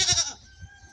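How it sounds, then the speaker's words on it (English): A farm goat bleats loudly for its kid left behind in a field, one harmonic cry in the first half-second, then faint quieter calls trailing off nearby. "Those goats that are crying behind the scenes"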